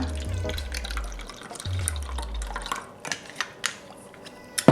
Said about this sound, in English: I'm using rice vinegar, and I'm filling it up to 1/4 cup